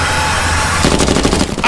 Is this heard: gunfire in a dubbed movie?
yes